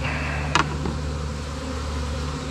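Honey bees buzz steadily during a cut-out removing a colony from inside a house, a dense close drone with a couple of brief louder passes near the start.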